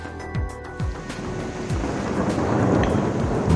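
Heavy rain pours down during a motorcycle trip in Dagestan while riders shelter under a concrete slab, a loud steady hiss of rain with low rumbling bursts like thunder or passing engines.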